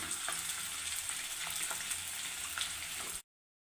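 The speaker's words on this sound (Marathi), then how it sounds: "आता थोडा थोडा डिंक आपण घालू आणि पूर्ण डिंक तळून घेऊ।" Pieces of edible gum (dink) fry in hot oil, a loud, dense, continuous sizzling hiss with small crackles that runs close up and then cuts off abruptly near the end.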